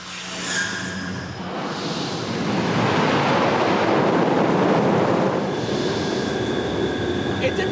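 Water rushing through an opened valve toward a hydroelectric turbine two meters below, fed from a large upper lake, building into a loud, steady roar of broadband flow.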